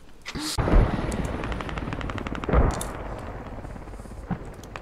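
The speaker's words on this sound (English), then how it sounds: "enemy chopper hovering" An enemy helicopter hovering in a video game gives a steady rotor drone, broken by sharp gunfire bursts near the start and middle, with a short rapid crackle late in the clip.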